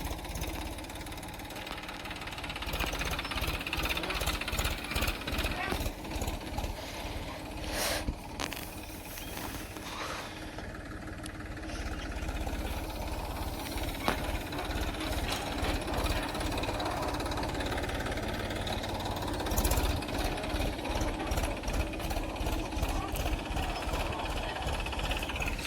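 A tractor engine labours under load while ploughing a field, a steady loud mechanical drone with a rapid knocking pulse that runs without a break throughout, with no talk over it.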